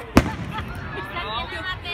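A single sharp Fourth of July firework bang bursts out near the start, followed by a rumbling, crackling wash of distant fireworks and a faint crowd murmur.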